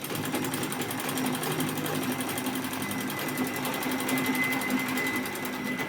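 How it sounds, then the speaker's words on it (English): A sewing machine stitches a zipper, running in a fast, even mechanical whir with a rapid needle rhythm, steady and close throughout without talk. "Make sure you're sewing very close to the teeth."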